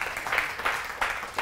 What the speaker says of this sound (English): Give the Lord one more hand clap tonight.